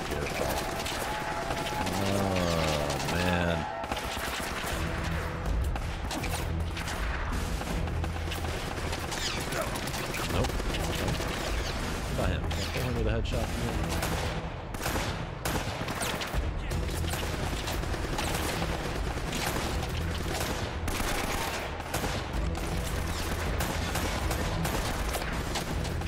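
Gunfire in the video game Uncharted: Drake's Fortune, including sniper rifle shots, loud dense bursts of shots and impacts over continuous game noise, lasting the whole stretch with a voice faintly underneath.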